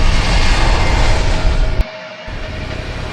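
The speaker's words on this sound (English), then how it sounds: "Engines to full power. Rolling, accelerating, rotation." An airliner's engines run at full power during the takeoff roll, a loud, dense, steady roar with a low rumble and a thin whine on top, briefly dropping out before resuming.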